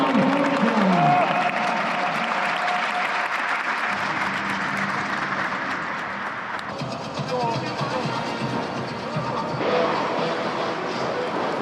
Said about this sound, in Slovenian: Ajde, aplavz.